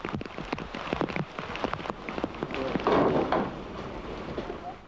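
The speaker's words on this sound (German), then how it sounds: "Selbstverständlich beginnt es nachmittags zu regnen." Heavy afternoon rain in the Kalimantan jungle pattering densely on surfaces, a steady close wash of drops that swells briefly in the middle, with no voices.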